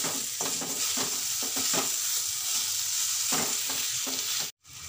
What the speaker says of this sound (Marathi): आता ही केरी टाकून द्यायची त्यामध्ये